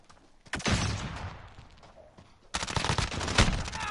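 Video game gunfire in bursts during a firefight, with a loud volley at the start, a quieter stretch, then a sustained heavy barrage of rapid shots near and loud.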